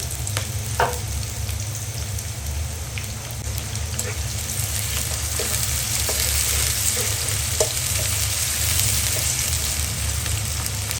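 Finely sliced onion, about half a cup, fries in hot oil, a steady close sizzle like light rain with a few scattered stirring clicks and no speech.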